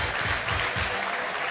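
A church congregation ululating and clapping in praise, a loud dense burst of trilling voices filling the space for a brief moment.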